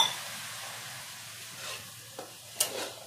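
A splash of water hits the hot spiced vegetable khichuri pot and sets off a soft, steady sizzle, with a few light stirring scrapes near the end and no talking.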